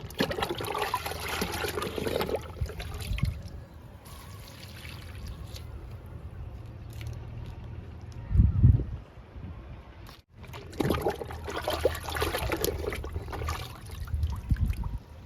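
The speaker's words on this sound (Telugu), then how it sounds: "విరజాజికి ఇస్తున్నాను లిక్విడ్." Liquid fertilizer is poured onto a jasmine plant, a soft splashing trickle near the mic that fades, pauses, then resumes, with a few handling bumps in between.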